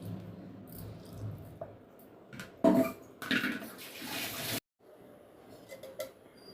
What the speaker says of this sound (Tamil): அந்த மிக்சி ஜாரை மட்டும் கழுவி லைட்டாக ஊற்றிட்டு